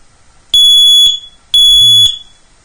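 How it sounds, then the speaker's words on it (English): A household smoke detector shrieks twice after its test button is pressed, two piercing high electronic tones of about half a second each, loud and close with a short gap between them. "Today I want to tell you something about my smoke detector."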